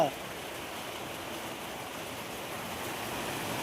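Heavy rain pours steadily over a village, a dense even hiss of falling water close by with no breaks, lasting throughout at a constant level.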